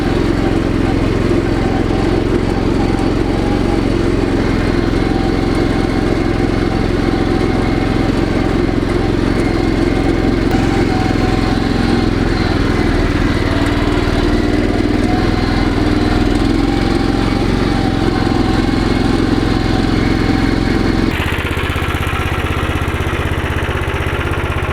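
MTZ 132N mini tractor engine running steadily while the tractor drives, a loud continuous mid-pitched drone that cuts to a lower, muffled tone near the end.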